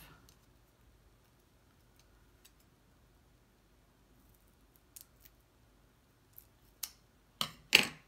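Scissors snipping a paper piece for a 3D penguin box craft: a quiet stretch, then a few sharp crisp cuts grow louder and closer together toward the end, with no talk.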